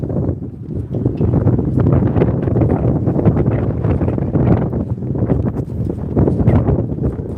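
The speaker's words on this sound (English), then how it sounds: "It's windy out here" Steady, loud wind buffeting a microphone, a continuous low rumble and roar with gusty swells throughout and no other clear sounds.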